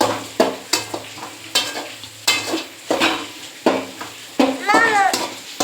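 Pakoda filling with a little sugar is mixed in a pan over low gas. Close, rhythmic stirring strokes scrape against the pan roughly every half second over a soft sizzle, with a short tonal sound near the end.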